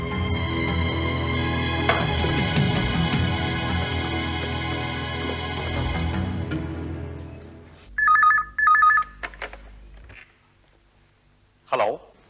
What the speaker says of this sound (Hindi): केयरटेकर को फोन लगाओ।